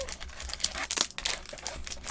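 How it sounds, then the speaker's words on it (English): Pokémon Silver Tempest booster box and packs crinkle and rustle continuously as they are shuffled by hand, close and fairly loud, with no talking. "let me quickly shuffle up the Silver Tempest box, and we'll grab some packs out for you"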